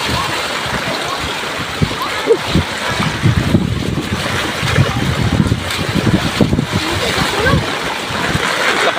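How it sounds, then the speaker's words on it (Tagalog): Strong typhoon gusts buffet the microphone over rushing, churning floodwater and splashing in Sipalay City, loud and close, with a voice speaking intermittently underneath. "Ang lakas ng hangin at saka tubig."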